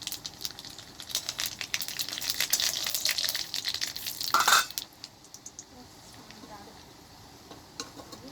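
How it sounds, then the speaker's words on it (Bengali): Urad dal, mustard seeds and nigella seeds crackle and sizzle in hot oil with dried chillies, a busy spitting fry for several seconds that falls to a quieter hiss, with a voice talking over it. "ফোড়নে আছে ডাল, আছে সাদা ডাল, সর্ষে আর কালো জিরে ফোড়ন দিলাম।"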